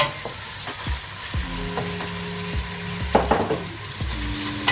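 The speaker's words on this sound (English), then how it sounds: "So we leave our onions to cook" Onions sizzle in oil in a pot for jollof rice, a steady frying hiss broken by repeated scraping stirs and clinks of the spoon against the pot, close and without speech.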